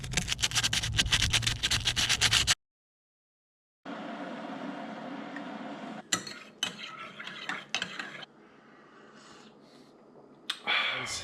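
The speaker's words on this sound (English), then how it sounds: "I got my 80 grit sandpaper right here. So I'm just gonna start by sanding this down." Bursts of rapid, scratchy rubbing as 80-grit sandpaper is worked against a rusty Honda Civic Si body, broken by a short silence and then quieter, uneven strokes.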